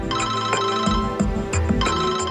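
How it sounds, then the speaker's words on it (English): A mobile phone ringtone plays loud and close, a bright repeating electronic melody with rhythmic pulses running through the whole stretch, alone without speech. "He, of course, had his cell phone,"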